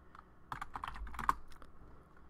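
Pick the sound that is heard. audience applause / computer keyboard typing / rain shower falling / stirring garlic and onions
computer keyboard typing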